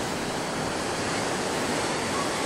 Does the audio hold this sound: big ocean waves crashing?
yes